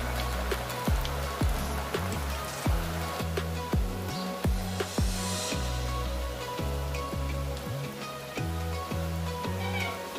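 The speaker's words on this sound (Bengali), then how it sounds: "তেলটা আমার গরম হয়ে গিয়েছে। এবার এর মধ্যে ডোনাটগুলো দিয়ে দিচ্ছি।" Bread mini donuts fry in hot oil over medium heat, a steady close sizzle and crackle broken by a string of rhythmic clinks and pops.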